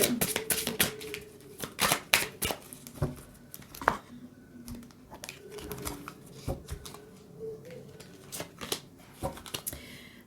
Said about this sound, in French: l'oracle d'Anka, un petit conseil pour le second tirage